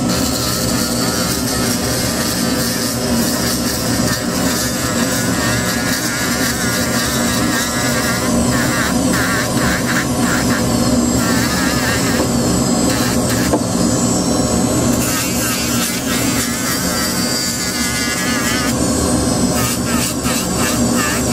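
Rotary coarse wheel grinding supports off a VeriSPLINT OS resin splint, a loud, steady, dense whine and rasp running continuously throughout, close up, with no pauses.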